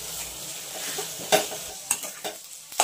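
A spoon stirs and turns a spiced mashed-potato mixture for Kolhapuri katwada in a hot pan. A constant frying sizzle is broken by a few sharp scrapes and knocks.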